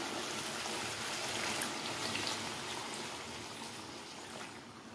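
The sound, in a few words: water poured into cooking mutton and potato curry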